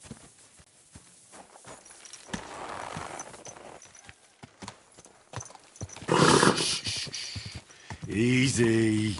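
A horse in the medieval game Kingdom Come: Deliverance II clops along with steady hoofbeats under faint background speech, then lets out a loud, close whinny near the end.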